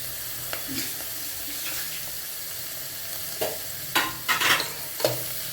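Pieces of bottle gourd fry in a pan under a constant soft sizzle. A spoon stirs them in several sharp scraping bursts, and these grow louder and come closer together toward the end.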